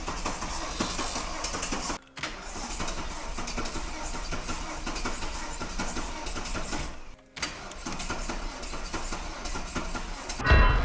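A diesel Mercedes tractor engine runs with a loud, continuous rumbling drone up close, broken twice by brief drops in sound, with no talk.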